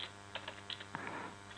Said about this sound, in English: I can keep my hands on the keyboard